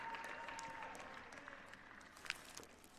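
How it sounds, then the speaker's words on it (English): A crowd applauds at a men's volleyball conference championship trophy ceremony, scattered and fairly faint clapping with a few sharper claps, heard from a distance in an indoor gym. "one more round of applause for the 2021 New Jersey Athletic Conference Men's Volleyball Champions"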